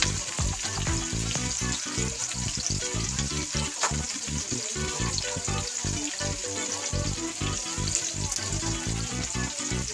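Tilapia fillets frying in a pan give a steady, loud crackling sizzle that runs unbroken throughout, with faint stirring and liquid sounds mixed in.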